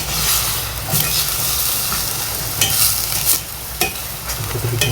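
A sauce mixture seasoned with fish sauce is stirred in a sizzling pan, a close scraping swish over steady frying hiss, punctuated by several sharp utensil clacks against the pan.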